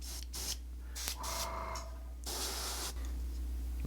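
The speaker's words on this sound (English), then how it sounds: "Along the feet, along the bottom, I can just kind of spray straight at them." Short bursts of hissing spray from an airbrush shading Stormcast Liberator miniatures, several close sprays separated by pauses, with no talking.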